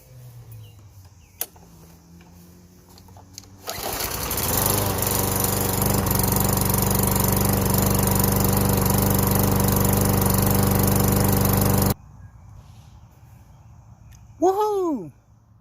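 A repaired walk-behind lawn mower engine catches after a few quiet moments and runs loud and steady close by for about eight seconds, then cuts off abruptly; a voice whoops briefly afterward.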